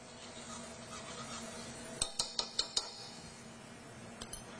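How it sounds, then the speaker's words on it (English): A quick stir of mirepoix and corn softening in a single pan for seafood pot pie, a faint background sizzle broken by a brief run of five sharp utensil clinks against the pan. "Quick stir."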